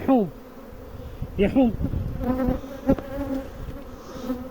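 Honeybees from a wild swarm buzz around a hive, a dense near hum with individual bees droning loudly past the microphone at close range.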